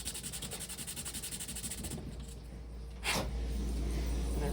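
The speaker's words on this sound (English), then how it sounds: "sand the back side just a little more" Rhythmic rubbing strokes of sanding along the edge of a puzzle piece, close and fairly quiet, followed by a brief sharp scrape and a lower steady noise.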